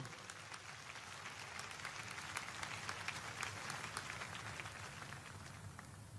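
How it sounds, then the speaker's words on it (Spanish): A church congregation applauds in worship during a sermon, a steady, fairly quiet wash of many hands clapping that holds evenly for several seconds with no speech. "den al Señor un aplauso de adoración"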